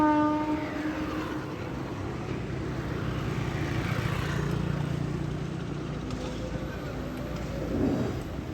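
A train rumbles steadily past, approaching a railway station, its horn sounding near the start over continuous wheel and engine noise, fairly close.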